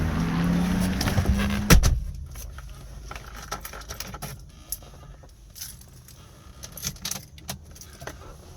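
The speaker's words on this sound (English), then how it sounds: "We're going to do a cold startup and a test drive of this 300D Mercedes." Keys jangle close by inside a 1984 Mercedes 300D diesel before a cold start, with a brief low hum and a sharp thump near the start, then quieter scattered rattles and clicks.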